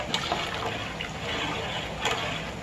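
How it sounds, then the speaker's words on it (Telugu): A ladle stirs rice and water in a pot for bagara rice, soft faint swishing and sloshing with a few light clinks, close and alone without talk. "ఒక్కసారి అనేది కలుపుకోవాలి గరిటెతో."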